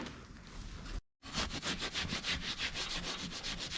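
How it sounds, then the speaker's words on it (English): A red Scotch-Brite pad scrubs old, deteriorated glue off a surface, a close, rhythmic back-and-forth rasping that stops briefly and then resumes in quick even strokes, with no talking. "Cleaning off the old glue."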